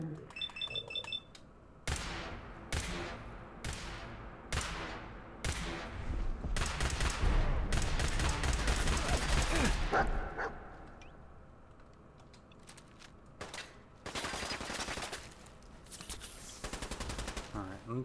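Bursts of automatic gunfire in the video game Fallout 4 crack out in rapid, loud volleys broken by pauses, with a beeping tone early on and a brief spoken remark.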